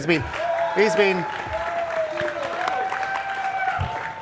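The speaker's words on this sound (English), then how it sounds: "A round of applause for Steve-O" A crowd at QuakeCon, a Quake Live tournament, claps for the tournament admin, a moderate burst of applause beneath a voice that keeps talking over it.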